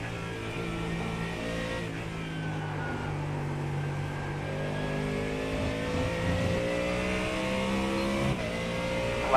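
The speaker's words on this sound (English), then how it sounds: "Got one car coming." A race car approaching and passing during the 24 Hours of Le Mans endurance race, a steady loud engine drone with rising and falling pitch as it nears.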